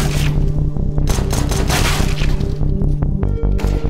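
Rapid gunfire from an esports match of a shooter video game, rifle and pistol shots cracking in dense repeated bursts over a loud, continuous game soundscape.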